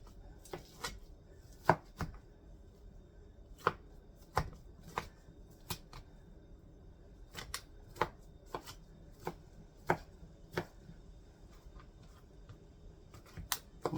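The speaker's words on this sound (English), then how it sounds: "We're going to chop these into chunks." A knife chops potatoes into chunks on a cutting board for ham and bean soup, with sharp, close, irregular thuds and taps spread over a quiet kitchen background.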